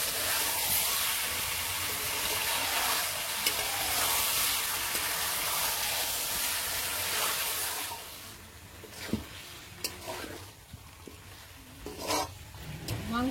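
Chicken for a village-style biryani sautés in oil with a loud, dense hiss for several seconds. The hiss then drops to a quieter sizzle broken by scattered stirring clinks and scrapes.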